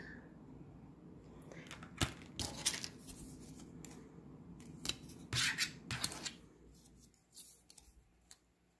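Scissors cutting ribbon for wrapping a skirted crystal in wire art, several sharp snips at close range over a soft background hiss, spaced unevenly with a cluster of cuts in the middle.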